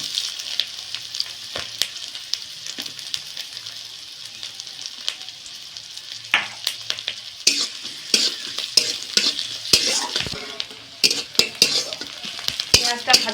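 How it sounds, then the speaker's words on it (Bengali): Chopped onion sizzling in hot oil with whole garam masala (cardamom, cinnamon, cloves), steady frying hiss throughout with repeated clinks and scrapes of a spoon stirring against the pan, busier toward the end. "এবার এর মধ্যে দিয়ে দিচ্ছি পেঁয়াজ কুচি।"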